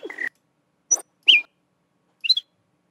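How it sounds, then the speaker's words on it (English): Short, isolated bird chirps in a rendered sound-design ambience, four sparse high calls separated by silence, clear and close. "I will grab all of those bird noises that I had originally"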